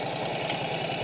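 A 1948 Indian Chief motorcycle engine runs steadily at close range, a continuous low throb with rhythmic knocking pulses and no talk over it.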